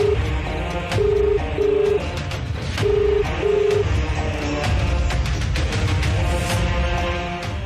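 A mobile phone left behind rings on and on unanswered in a Telugu TV serial scene, its ringtone a loud sequence of short, evenly spaced electronic tones repeating over a steady background, with no talk.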